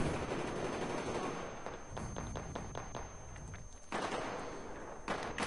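An RPK machine gun firing in Battlefield 3: loud rapid bursts of automatic fire, several sharp shot clusters in a row, a brief lull, then more sustained firing, with no talking.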